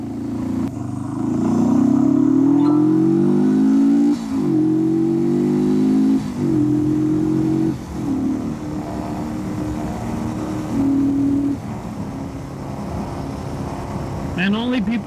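Motorcycle ridden on a highway in Islamabad, its engine revving up through several gear changes with rising and dropping pitch, loud and close, then settling into a steady cruising drone.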